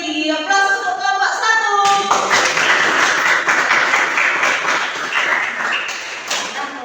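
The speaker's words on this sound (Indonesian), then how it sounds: "Aplaus untuk kelompok" Classroom students clap together for group 1, a dense burst of applause rising after a brief tonal chime and then holding steady and loud before easing slightly.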